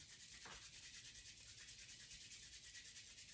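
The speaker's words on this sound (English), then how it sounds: "let the hands fall away from your body and rub your palms together" Palms of hands rubbing together, a faint steady swishing friction that runs continuously with a soft rhythmic texture, quiet and with no talk.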